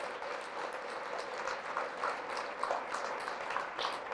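A church congregation at a Catholic service applauding, a steady, moderately distant wash of many hands clapping that stays even throughout.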